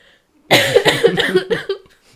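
A single drawn-out cough, loud and close, with a few rough bursts over about a second, then quiet.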